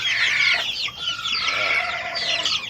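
A flock of about 80 chicks fills a growing pen with constant, dense, high-pitched peeping and chirping. The sound is close and steady, with no talking.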